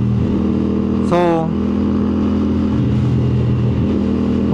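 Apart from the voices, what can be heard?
road traffic heard while riding a motorcycle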